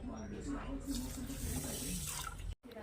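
A glass of water pours steadily onto sugar in a pan, a continuous close splashing rush that cuts off abruptly at the end.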